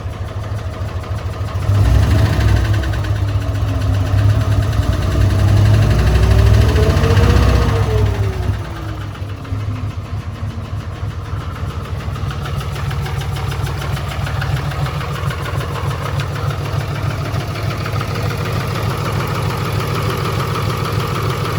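Rough idle of a Cummins diesel engine, a steady loud rumble with an uneven drone that wavers early on, then settles slightly quieter and continuous, with no talking.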